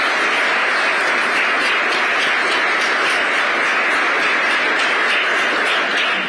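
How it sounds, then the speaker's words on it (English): An audience at a political event applauds in a loud, dense, continuous wash of clapping that holds steady from start to finish, with no talking over it. "Can I get a round of applause for our Treasury Secretary?"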